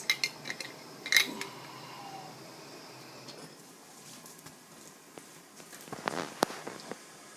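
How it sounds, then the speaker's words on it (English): A small magnet on the end of a canning tool picks metal jar lids out of a pot, producing a few sharp metallic clinks and light clatters, faint and scattered, with a second cluster of taps near the end. "Got a little magnet on the end, grabbing the lids."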